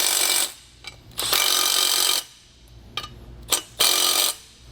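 Hex head bolts being tightened with a 9/16 socket on a ratchet while fitting SumoSprings Maxim helper springs on a 2013 vehicle: loud, close bursts of ratcheting, each lasting about a second, separated by brief clicks and pauses.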